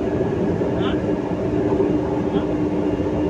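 Steady low rumble and hum of an MRT metro train in motion between Shaw Boulevard and Quezon City, continuous and close, with a couple of faint high squeals.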